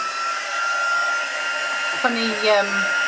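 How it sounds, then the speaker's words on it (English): A new heat gun used for heat embossing on a crafting project blows a steady, loud whooshing stream of air up close, with a brief tonal squeak near the end and no talk. "I have a new heat gun as well"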